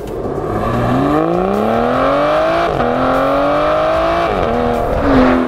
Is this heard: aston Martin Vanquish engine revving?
yes